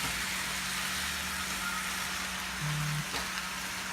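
Ground meat and ham brown in a pan for seafood-stuffed bell peppers, making a steady, soft, even sizzle with a low hum underneath and no speech.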